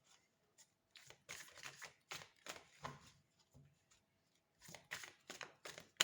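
A deck of tarot cards being cut and handled, soft quiet riffling and shuffling bursts in short clusters with brief pauses, close and faint.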